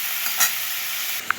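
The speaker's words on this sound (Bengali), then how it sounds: "পনিরগুলো ভালো করে ভেজে নেব বাটারে" Paneer pieces frying in butter over low heat in a pan, a steady soft sizzle with a brief spattering burst and a small clink of a utensil near the end.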